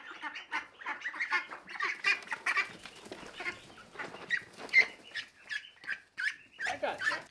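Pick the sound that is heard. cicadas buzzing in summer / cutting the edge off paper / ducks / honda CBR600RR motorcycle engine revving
ducks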